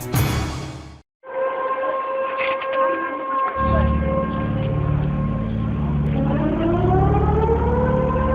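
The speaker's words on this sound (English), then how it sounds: "These are the sounds of a tsunami warning." A civil defense tsunami warning siren in Alaska wails loudly, its steady harmonic tones holding and then rising in pitch; a brief burst of noise and a short pause come before it.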